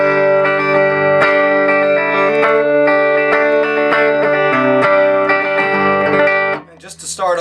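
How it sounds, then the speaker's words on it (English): Electric guitar played straight into a Bogner Ecstasy amplifier with no effects, a loud sustained run of ringing chords and notes for several seconds, cut off near the end by a short burst of talk. "Here's just my guitar plugged in right now just to the amplifier,"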